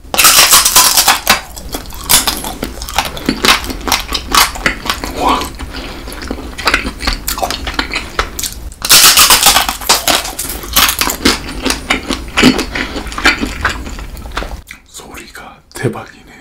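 Close, loud crunching bites into frozen fruit roll-ups filled with ice cream, a brittle crackle repeating with steady chewing through most of the stretch, then quieter mouth sounds near the end.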